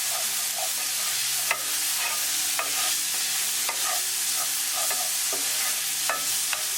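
Corn masala with tender tomatoes frying in a pan, a steady bright sizzle under repeated scraping strokes of a spoon stirring, close and continuous with no talking.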